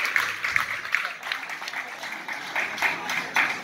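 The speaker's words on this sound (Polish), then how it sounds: "Ogromne brawa." Audience applause at a jazz concert, a steady wash of clapping from a moderately sized crowd, heard from within the room, rising and falling slightly over a few seconds.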